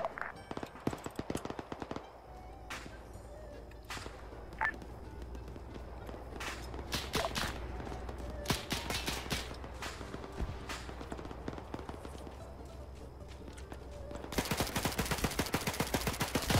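Gunfire in the military shooter Arma 3 during a Soviet invasion battle, with scattered sharp rifle shots near and distant, irregular bursts throughout, and a denser rattle of fire toward the end.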